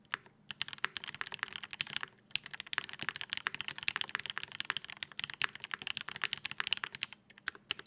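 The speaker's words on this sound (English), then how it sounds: "It sounds very dull on the upstroke clack." Quiet, steady typing on a keyboard with JWK switches that have unwiped stems, giving a dense stream of dull, soft clacks with two brief pauses and no talking.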